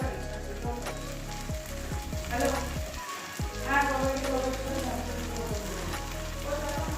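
A spoonful of ghee sizzles into a vegetarian cabbage curry, a close, crackling hiss like rain on a surface that runs throughout over a low, steady hum.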